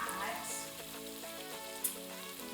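Oxtail sizzles and fries as it goes into a pot already holding tomato paste. A soft, steady crackle continues with a brief clink partway through, heard faintly under a quiet cooking setting.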